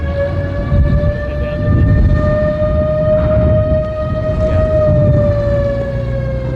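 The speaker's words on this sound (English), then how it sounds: "as the siren heads down the road with the military convoy sort of leaving us here" A siren wails steadily from a military convoy heading down the road at a D-Day commemoration near Pegasus Bridge, holding a loud, nearly constant pitch that rises slightly and fades a little toward the end, with rumbling traffic and outdoor noise beneath.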